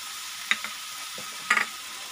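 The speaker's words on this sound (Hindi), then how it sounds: "चिकन ऐड कर देंगे, इसमें हम डाल देंगे 2 चम्मच अदरक लहसुन का पेस्ट" Chicken pieces frying in a pan with ginger garlic paste give a soft, steady sizzle, broken by a few sharp clicks and scrapes of a spoon stirring near the start and middle.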